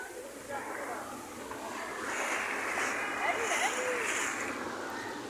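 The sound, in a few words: sea waves splashing at Muttrah Corniche, Muscat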